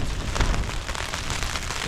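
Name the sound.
rain falling on DCF tent while wild camping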